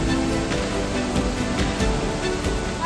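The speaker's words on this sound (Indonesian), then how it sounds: "Air terjun setinggi 20 meter ini mengalir melalui celah batu purba" A 20-metre waterfall pouring through a gap in ancient rock between two cliffs in Harau Valley, West Sumatra, a steady broadband rush of falling water filling the whole stretch with no voices.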